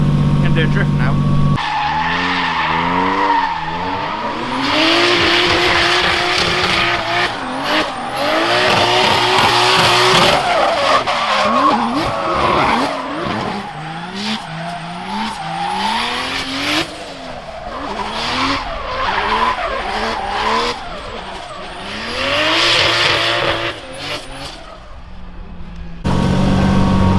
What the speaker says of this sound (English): Going to do a drift now.